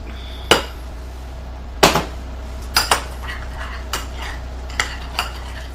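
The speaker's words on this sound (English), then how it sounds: "Let me get my spoon. I'm just going to make a paste with this." A spoon mixes a seasoning paste in a bowl, about eight sharp clinks and taps at uneven intervals over a low steady hum, close and without talk.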